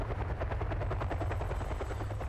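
A helicopter hovers nearby in the video game Kane & Lynch: Dead Men, its rotor beating in a fast, steady rhythmic chop over a loud engine drone, alone and continuous.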